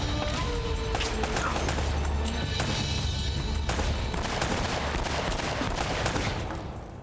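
Dense gunfire rattles through a firefight in Uncharted: Drake's Fortune, with rapid automatic bursts and sharp single shots layered into a loud, near-continuous barrage.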